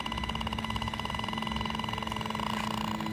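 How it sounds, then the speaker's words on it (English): Electronic alarm from an EMF meter held near a cell phone tower, a steady high-pitched tonal beeping with a harmonic and a constant low hum behind it, sounding continuously and fairly loud throughout. "you can hear the alarm going off"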